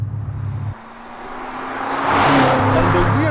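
BMW M5 F90 engine pulling hard, a steady loud roar that dips for a moment, then swells and rises in pitch as the car accelerates, with road and wind noise around it.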